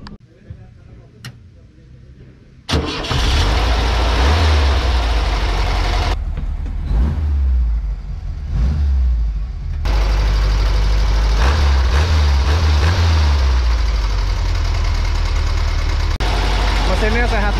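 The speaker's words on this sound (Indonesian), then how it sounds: "Mesinnya sehat banget." A Volkswagen Kombi bus engine with its original carburetor filter idles close by. A quieter start gives way to a loud, steady, throbbing rumble that keeps a lumpy rhythm and has brief dips.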